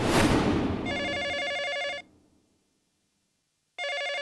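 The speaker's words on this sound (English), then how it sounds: "the phone rang and I answered it" A telephone rings with a bright electronic trill: one long burst of nearly a second, then a pause, then the ringing starts again. It is loud and close, follows a brief noisy rush, and no one speaks.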